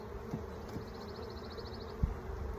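Honeybees buzzing around an open hive during a spring inspection and split, a faint steady hum with a few soft thumps and knocks of handled frames.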